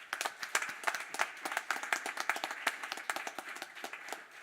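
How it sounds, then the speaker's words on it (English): An audience at a summer awards ceremony claps, with many hands striking in a quick, uneven patter that stays moderately loud and steady for a few seconds, with no voices over it. "Please give yourselves a round of applause."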